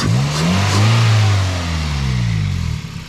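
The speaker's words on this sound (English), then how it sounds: "Give it a little, you hear that intake, right?" A car engine revs up and settles, a deep throaty intake roar rising and falling over about three seconds, close and loud with no talking.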